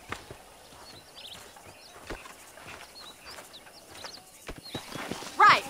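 Horses in the Red Dead Redemption game plod with soft clip-clop hoofbeats under quiet outdoor ambience and faint birdsong, with a brief neigh near the end.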